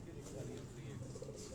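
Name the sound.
pigeons cooing on a rooftop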